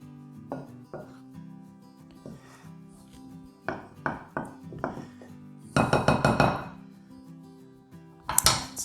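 Chocolate chip cookie dough ingredients are mixed by hand in a bowl. Sharp clinks and scrapes of the utensil against the bowl come in bursts, with a dense flurry of rapid strokes in the middle and again near the end.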